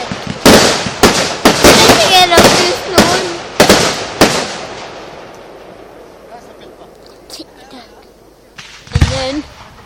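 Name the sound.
fireworks exploding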